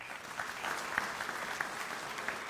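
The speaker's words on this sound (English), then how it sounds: "So this might be a continuous clap, okay?" Audience applause at a Jefferson–LVHN announcement event, steady continuous clapping from a crowd that holds an even level throughout, with a few sharper individual claps standing out.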